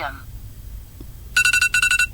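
A telephone rings in a fast electronic trill, two bursts of quick repeated tones after a quiet stretch, bright and close.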